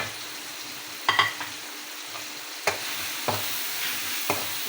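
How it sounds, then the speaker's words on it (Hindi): Spice masala tipped into tomatoes and onions frying in a pan for a bhindi curry, a soft steady sizzle with a few sharp stirring scrapes and clinks, no talking. "अब ये मैं सारा मसाला इसमें डाल"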